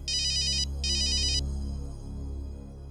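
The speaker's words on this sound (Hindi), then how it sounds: "सुदेश मौके का फायदा उठाकर आकाश का फोन रिसीव करता है।" Electronic phone ringtone sounding in a stage performance, two bright bursts of a repeating tone, close and clear, then a low hum.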